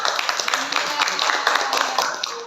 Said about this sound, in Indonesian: Oke, tepuk tangan buat Ryan dong